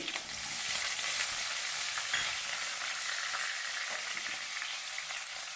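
Onion frying in oil in a pan for a North Karnataka brinjal curry, giving a steady, dense sizzle that holds evenly throughout with faint stirring scrapes.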